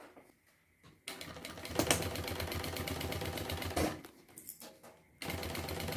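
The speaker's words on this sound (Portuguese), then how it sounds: "Esse barulho que vocês ouviram é do clipe batendo aqui na máquina" A sewing machine stitches a zipper onto a beach bag, running in long rattling bursts between short pauses. The zipper pull clip knocks against the machine with a couple of sharp, louder clacks.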